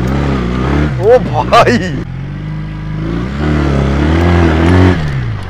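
A motorcycle engine revs in a few sharp, loud bursts up close, then settles into a steady idle, with someone talking excitedly over it.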